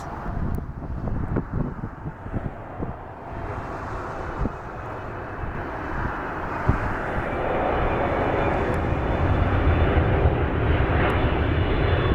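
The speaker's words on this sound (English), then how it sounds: "our first plane is the Boeing 777-300 ER operated by United Airlines." A United Airlines Boeing 777-300ER jet's engines roar steadily at Dulles airport, building from a broad rumble to a louder, fuller whine as it nears, with wind buffeting the microphone.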